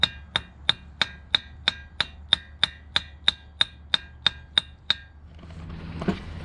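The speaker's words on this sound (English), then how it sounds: "I have to hammer it on there." Fifteen sharp metallic hammer blows on a part being fitted to the axle of a 2016 Chevy Silverado Z71, in a steady, quick rhythm, ringing and close, followed by a moment of rustling.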